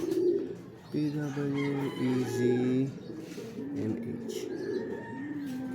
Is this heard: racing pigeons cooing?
yes